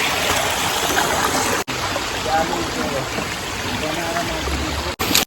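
Mountain spring water flowing in hilly terrain, a loud, continuous rushing and trickling close by, broken by two brief dropouts.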